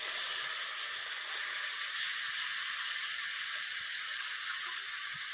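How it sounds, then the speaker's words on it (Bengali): Bitter gourd frying in hot oil in a wok, a continuous soft sizzling hiss with faint crackles, steady and close but fairly quiet, with no voices. "এবার আমি কড়াইতে তেল গরম করতে দিয়ে তাতে করলাগুলো দিয়ে দিলাম।"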